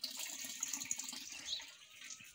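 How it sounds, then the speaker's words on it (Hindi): Water running from a tap as someone washes face and hands outdoors in a Pahadi village home, a steady trickle with intermittent splashes, fairly faint. "ये यशोदा मुँह हाथ धो रही है, उठ गई और पानी आ गया है यहाँ।"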